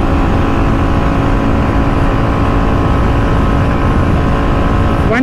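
Royal Enfield Bullet 350 motorcycle, a 2023 model, running flat out at about 120 km/h in fourth gear, with a loud, steady engine drone and rushing wind noise that stay constant and close throughout, with no talking.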